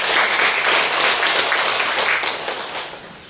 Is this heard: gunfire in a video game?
no